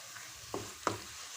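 Curry leaves drop into grated coconut frying in a pan, giving two quick crackling sizzle bursts over a faint background hiss, with no voices.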